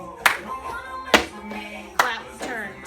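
Cup game rhythm played with hands and a cup: three sharp percussive hits roughly one second apart, each a clap or cup tap on a surface, with a voice speaking over the pattern.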